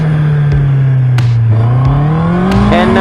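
A Honda CB650R motorcycle engine holds high revs near 7,000 RPM, loud and close, its pitch sagging slightly and then climbing again with no pauses.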